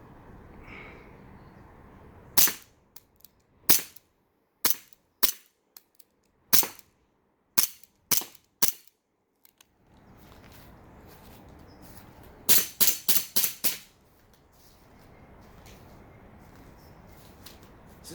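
An Elite Force M1911 A1 airsoft pistol snaps through a run of sharp, dry clicks and pops with a jammed magazine, spaced singly at first and then a quick cluster of five, each crisp and close against near silence.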